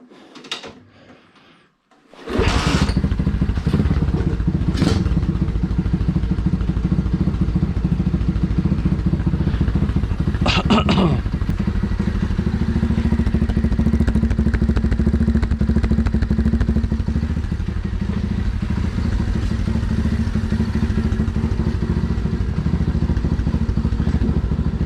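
Project X car engine revving high and refusing to idle below 3,000 rpm, a loud steady drone after a few brief knocks, holding constant throughout.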